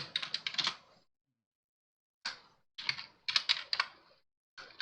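Someone types a computer name on a keyboard, with quick clattering bursts of keystrokes separated by short pauses, close and clear.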